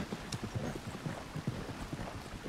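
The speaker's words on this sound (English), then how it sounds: "This is a rental, so we can run this horse, right?" Horse hooves drumming in a fast, irregular rhythm as a rental horse is run in the video game Red Dead Redemption 2, moderately close over faint wind.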